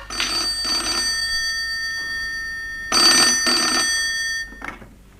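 A telephone rings in two bursts of repeated electronic trills, separated by a short pause, fairly loud and close with no talking.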